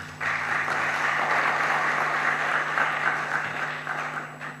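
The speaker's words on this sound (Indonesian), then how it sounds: "Tepuk tangan buat ibu-ibu." Audience applause at an academic oration ceremony, a steady, fairly loud wash of many hands clapping that holds for about four seconds over a low electrical hum before tapering slightly.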